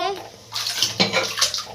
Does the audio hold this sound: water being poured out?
yes